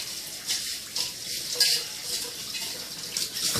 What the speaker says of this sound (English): throw the filter in the sink, rinse it all off